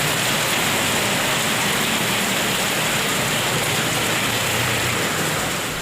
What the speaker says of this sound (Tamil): திண்டுக்கல் நகர் மற்றும் சுற்றுவட்டார பகுதிகளில் 1 மணி நேரத்திற்கு மேலாக கனமழை பெய்தது